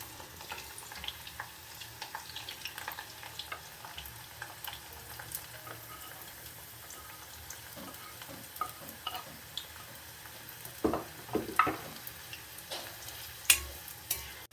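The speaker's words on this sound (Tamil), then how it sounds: "இது வெங்காயம் வெளில போட்டு நல்லா வதங்கணும்" Onions fry in a pan for a curry-leaf kuzhambu, giving a faint, steady sizzle with scattered spatula taps and scrapes that grow louder and more frequent toward the end.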